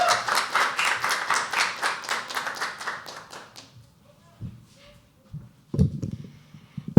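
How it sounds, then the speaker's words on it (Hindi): An audience at a live poetry open mic claps in a brisk burst of applause that fades out after a few seconds, followed by quiet and brief voices. "फिर से एक बार ताली बजाएंगे हम जूही के लिए।"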